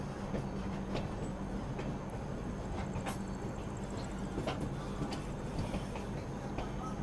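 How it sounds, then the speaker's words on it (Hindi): The Kafiyat Express rolls along an Indian Railways line toward Akbarpur and Ayodhya Cant, a steady loud rumble heard from inside a coach with faint rhythmic rail clicks and rattles throughout. "फिलहाल हमारी ट्रेन अब बढ़ चुकी है अकबरपुर अयोध्या कैंट की तरफ"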